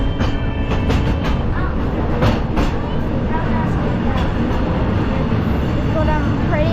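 Disneyland Railroad train rolling through Disneyland Paris, a steady close rumble with faint clicking wheel rhythm and occasional squeals, continuous throughout with people talking over it.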